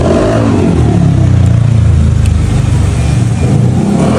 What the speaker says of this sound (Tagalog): Medyo maingay nga lang dito guys kasi nasa tabing kalsada lang sila